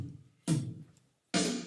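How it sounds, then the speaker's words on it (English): Two separate snare drum hits from notation software playback, each a sharp broadband crack with a short decaying tail, spaced under a second apart with near silence between. "So that sounds like a snare drum."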